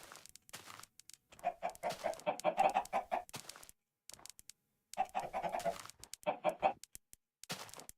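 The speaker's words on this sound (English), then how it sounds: "What is this chicken doing over here?" A Minecraft chicken clucks in two short bursts of quick, nasal clucking with breathy panting sounds, separated by near-silent gaps, faint and close.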